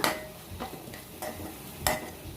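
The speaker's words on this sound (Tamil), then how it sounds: "எல்லாத்தையும் கிண்டி பச்சை வாசனை போகிற வரைக்கும் நல்லா வதக்கிக்கோங்க" Masala powders being stirred and sautéed in a pan for a roadside-style kaalan dish, with a few scraping stir strokes spaced across a low background sizzle.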